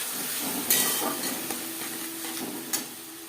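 Spice paste, tomato and ginger frying in oil for a katla fish curry, a steady close sizzle and hiss with a few stirring clatters.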